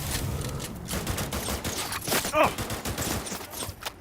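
Bursts of gunfire from a gun in the video game Cyberpunk 2077, a quick run of shots with loud impacts and game noise, steady and close throughout.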